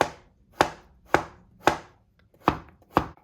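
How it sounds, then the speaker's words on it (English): A knife chops zucchini into diagonal strips on a cutting board, six sharp, evenly spaced cuts landing close and clear, with a short gap before the last two. "cut the zucchini in half first and place it flat side down, and then cut this in a diagonal"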